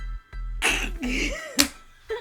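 Sneeze with a sharp burst between short breaths and throat sounds, close and fairly quiet, a brief harsh explosive noise following a few low hums.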